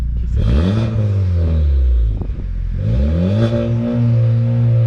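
A stock Honda Civic Type R FK8 with a destroyed downpipe and a blown-out catalytic converter from antilag revs twice. The loud engine note climbs and falls each time, with turbo spool and clattering close by.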